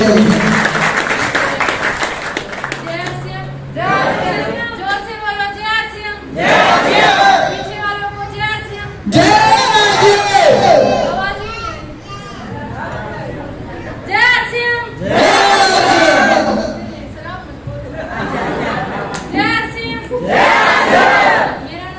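A seminar audience gives loud applause and cheering in repeated strong bursts with brief lulls between them, full of shouting voices.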